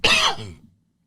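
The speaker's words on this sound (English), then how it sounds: "I have a little post-nasal drip, so it's making me cough." A single short cough from someone with post-nasal drip, a harsh close burst that fades out within about half a second, with no talk around it.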